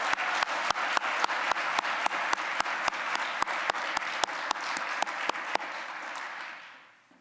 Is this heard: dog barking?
no